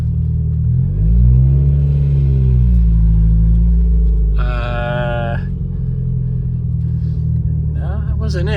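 A car's engine runs at a dealer auction lot, a steady low rumble with a brief rev near the start; short bursts of voice or tone rise over it partway through and at the end.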